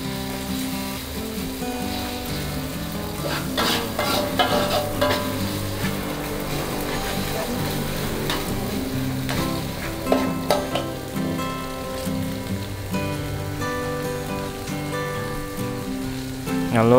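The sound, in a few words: pounded spice paste frying in hot oil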